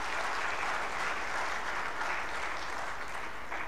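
An audience at the IIM Ranchi convocation claps steadily, a dense and even round of applause at moderate volume for the whole stretch, with no voices over it.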